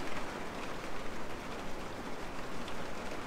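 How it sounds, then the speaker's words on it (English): Heavy monsoon rain pours steadily in the flooded desert around Pahrump and Death Valley, a dense, even hiss close by with no voices. "because it's still raining really hard"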